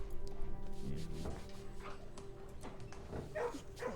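Puppy being petted in the video game Blue Prince, giving soft little yips, whimpers and happy barks in quick scattered bursts over faint background game sounds.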